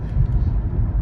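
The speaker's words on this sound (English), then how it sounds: "taking my Mustang on a cruise" A Ford Mustang with a built motor and a Whipple supercharger cruises on the road. Its loud, deep engine rumble fills a brief moment, with voices faintly mixed in.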